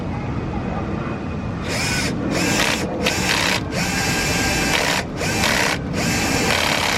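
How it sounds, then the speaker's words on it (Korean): A power drill bores a hole through the lower dashboard panel of a Hyundai Grandeur TG, whining loudly and steadily near at hand, with several brief stops and restarts. "하부 판넬에 구멍을 뚫어서 얘를 심을 거예요"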